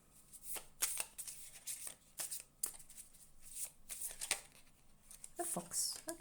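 A deck of animal cards is shuffled by hand, giving a run of soft riffling and flicking bursts at close range with a voice speaking over parts of it.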